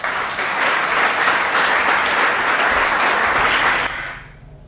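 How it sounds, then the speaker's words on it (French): Audience applause for the speakers at a conference on Africa's challenges in the twenty-first century: a dense, steady burst of many hands clapping for about four seconds, then quickly fading out. "Je pense que ça mérite l'applaudissement."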